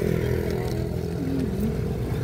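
A motorcycle passing by on a road near an active volcano area, its engine drone fairly close and continuous with some clatter, rising and easing slightly as it goes past.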